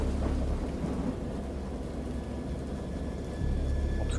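A thunderstorm with dense, steady rain and deep, rolling rumbles of thunder that swell and fade, filling the whole span with no voices.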